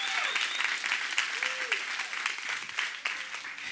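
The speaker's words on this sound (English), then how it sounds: "Can we give the Lord a hand clap that you made it here today?" A church congregation claps for the Lord at a service, a sustained burst of applause with some voices and cheers mixed in.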